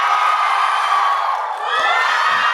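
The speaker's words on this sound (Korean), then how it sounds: "우리 선수들 한 명 한 명 호명할 때마다 여러분 큰 환호성으로 맞이해주시기 바랍니다" A large crowd cheers and screams continuously as players of the Korea national football team, back from the 2022 FIFA World Cup in Qatar, are introduced one by one at a Jeonbuk Hyundai fan talk concert; the cheering is loud, high-pitched and sustained throughout, with no talk.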